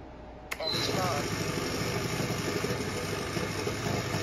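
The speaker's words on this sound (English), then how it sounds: "Engine on." A boat's jet drive engine starts with a sharp click and catches, then settles into a steady, loud idle rumble that continues to the end.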